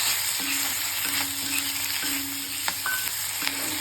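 Cut tomato fries in a pan for beetroot chutney, a steady close sizzle broken by several short scraping stirs, with no talking.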